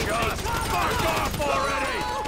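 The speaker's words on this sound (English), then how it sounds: "We shooting our way out of here!" Rapid bursts of gunfire in Grand Theft Auto 5 during a shootout escape, dense overlapping shots and automatic fire loud and continuous, with voices shouting over it.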